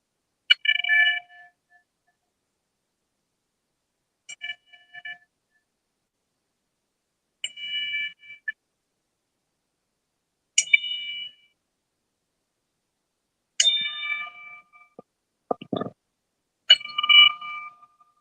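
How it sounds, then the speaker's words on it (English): A wrestling-style ten bell salute, bright metallic bell strikes ringing out in separate clusters spaced a few seconds apart over a silent background, with the final strikes coming closer together. "we're going to give him a 10 bell salute"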